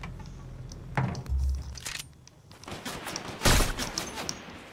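Gunfire in Fortnite crackles in a rapid, irregular string of sharp shots and bursts, some louder and closer than others, with no voices over them.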